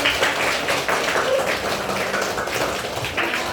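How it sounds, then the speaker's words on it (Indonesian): Classroom applause for a student at an Islamic primary school, a steady dense patter of many small hands clapping together for several seconds, moderately loud and continuous with no talk over it. "Tepuk tangan buat Satria"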